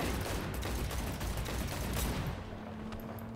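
Sustained gunfire in the Cyberpunk video game, a dense continuous burst of automatic shots and mechanical clatter that runs loud throughout and eases slightly toward the end.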